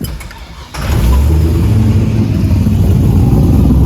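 The V8 engine of an LS-swapped 1974 Datsun 260Z, with a worn starter, cranks and catches, then roars into a steady loud rev, close up.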